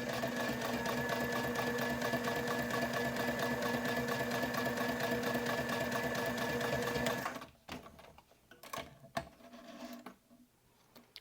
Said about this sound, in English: So now I'm just going to baste along these edges to hold the pen pocket in place.